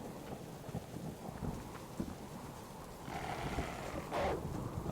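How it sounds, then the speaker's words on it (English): Rain and wind in the Subsistence survival game make a soft, steady hiss with low gusty rumbling. The noise swells noticeably louder over the last two seconds. "I can't hear him with the rain and the wind"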